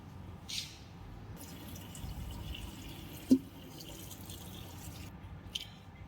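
Chopped leafy greens being rinsed in water at a home kitchen sink, with running water, soft splashing and a few drips, one sharper knock midway, no speech.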